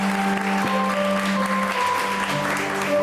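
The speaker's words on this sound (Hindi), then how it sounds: "देखिए तालियां होनी चाहिए इस बात पे" A studio audience claps in scattered applause under steady background hum and tones.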